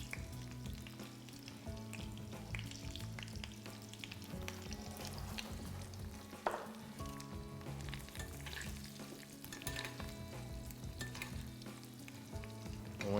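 An egg frying in a pan beside Pommes Anna, with a steady close sizzle and crackle plus occasional utensil scrapes throughout, no voices.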